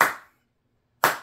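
Two single hand claps separated by about a second of silence, each sharp, close and fading quickly.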